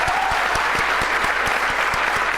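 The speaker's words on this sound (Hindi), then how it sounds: "जोरदार तालियां तो रश्मि को यार" Loud, dense applause from a studio audience fills the clip steadily, with a few sharper individual claps standing out and faint crowd noise beneath.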